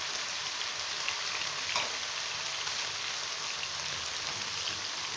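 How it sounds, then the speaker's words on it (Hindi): Chicken with carrots and capsicum fries in a pan for Chinese-style rice, a steady, close, dense sizzle that runs unbroken with faint stirring and no voices. "चिकन हमारा यहाँ पे अच्छी तरह से फ्राई हो गया है"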